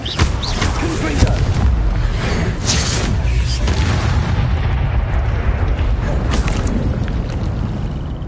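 A Confringo spell explodes in a wizard video game, producing a dense, loud rumbling blast with repeated booming bursts that sustain over several seconds, with game noise blended in.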